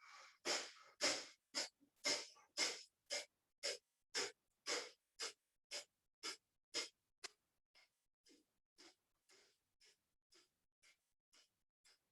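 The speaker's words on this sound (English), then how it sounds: "in breath of fire, we draw the navel back to the spine with a more rapid inhale and exhale" Rapid yogic breath of fire through the nose: a steady train of about twenty-five sharp, forceful nasal exhales, loud and close at first and then softer toward the end.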